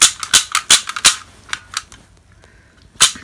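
A toy pistol firing pellets gives a quick run of sharp, loud snapping shots, about nine in the first two seconds, then one more crack after a short pause.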